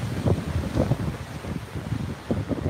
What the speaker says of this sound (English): Such wind.